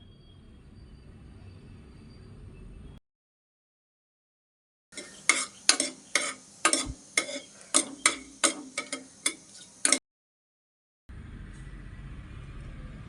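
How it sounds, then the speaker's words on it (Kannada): Dishes or utensils clink and scrape in a pan over roughly five seconds while bay leaves fry for chicken rice, a quick run of sharp, close taps set between stretches of low background noise and silence. "ಪಲಾವ್ ಎಲೆ ಎಲ್ಲ ಹಾಕ್ಕೊತಾ ಇದ್ದೀನಿ ಇದನ್ನು ಸ್ವಲ್ಪ ಫ್ರೈ ಮಾಡ್ಕೊಳ್ಳಿ"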